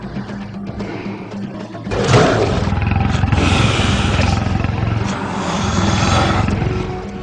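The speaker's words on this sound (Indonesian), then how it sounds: "Kemarilah macan jelek," A tiger in an animated forest scene lets out a loud, drawn-out, rumbling roar that starts about two seconds in and fills the rest of the clip.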